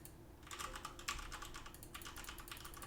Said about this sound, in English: just keyboard clicks